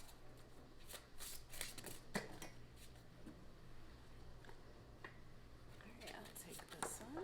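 Tarot cards shuffled by hand in a quiet room, a series of soft riffling bursts and card slaps close to the listener, with someone speaking softly between them.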